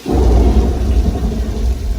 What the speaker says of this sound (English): They film in a downpour every time.